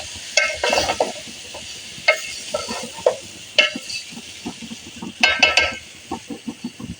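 A spoon scrapes and clacks through tomatoes and bottle gourd curry in a pan, irregular stirring strokes with soft sizzling underneath, close by and without speech.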